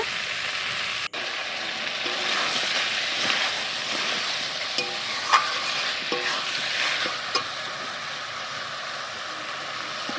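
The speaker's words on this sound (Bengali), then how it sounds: "মাংসটাকে ভালো করে ভাজা করে নেব।" Chicken pieces sizzle steadily in a pan of onion and spice masala while being stirred, a continuous close frying hiss broken by scraping spoon strokes and occasional clacks, with no talking.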